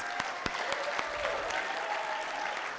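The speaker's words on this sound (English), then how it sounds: "A round of applause for our excellent students." An audience claps for graduates at a school graduation ceremony in Ifrane. A few distinct claps open a short burst of crowd applause that continues at moderate volume.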